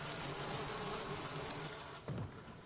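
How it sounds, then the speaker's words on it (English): Bees swarm around a giant beehive in the video game Resident Evil, producing a dense, continuous buzzing drone that fills the scene steadily from start to finish. "I ain't messing with bees."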